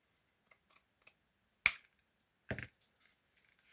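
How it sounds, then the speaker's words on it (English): Pinking shears trim fabric in two distinct crunchy snips about a second apart, close and crisp, with a few faint small clicks around them in an otherwise quiet room. "With the pinking shears, so it's, you know, a little bit more interesting"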